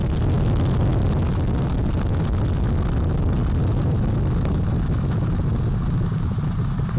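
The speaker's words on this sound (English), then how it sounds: "All 4 RS-25 engines on the core stage and 2 solid rocket boosters now propelling the vehicle" Artemis 1 SLS rocket launch with four RS-25 core stage engines and two solid rocket boosters, a loud, continuous broadband roar and crackle that rumbles steadily throughout without a break.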